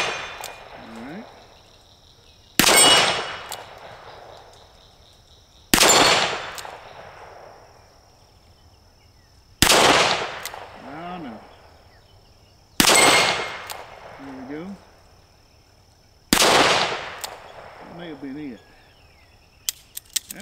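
Six spaced shots from an EAA Windicator .357 Magnum revolver, each a loud crack followed by the lingering metallic ring of a struck steel target plate, about three seconds apart, then fading between shots.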